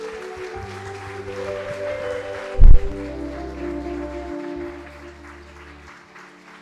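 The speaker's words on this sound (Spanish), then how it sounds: "Demos un aplauso al Señor." A church congregation applauds during a worship service, a steady patter of clapping that runs under sustained music tones, with one sharp thump partway through, fading toward the end.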